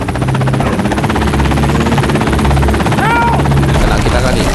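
Helicopter in the zombie shooter game Into The Dead 2, a loud steady rotor thrum running throughout the clip, with a brief rising tonal sweep near the end and speech mixed in.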